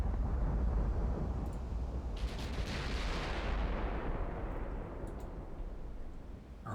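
Heavy battleship main guns fire in a naval battle from the Ultimate Admiral Dreadnoughts game, a loud booming blast with a rolling low rumble that swells, then decays slowly across several seconds, with a few faint sharp cracks mixed in.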